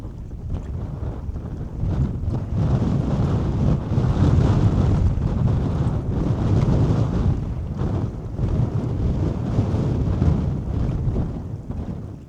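Strong wind on the Mississippi River roars and buffets the microphone in a steady, heavy rumble with gusty surges, and water sloshes faintly underneath; no one speaks.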